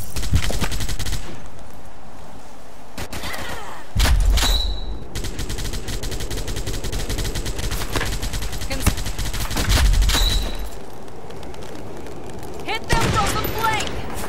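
Gunfire from a World War Heroes video game battle, with repeated bursts of automatic fire and heavy booms in rapid succession, loud and close, while voices talk over parts of the fighting.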